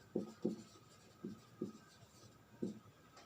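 Chalk or marker strokes on a classroom board during a physics lecture come as five short, faint scratches in an irregular rhythm, with no talk.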